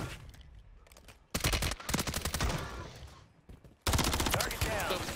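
Rapid bursts of automatic gunfire in Warzone 3, loud volleys broken by short pauses, with voices talking in between.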